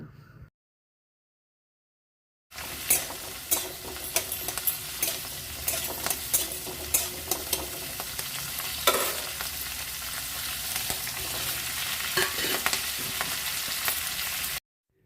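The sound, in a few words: tomatoes added to frying onions, sizzling and stirring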